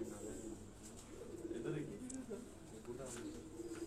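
Pigeons close by give soft, low repeated coos throughout, with people talking quietly underneath.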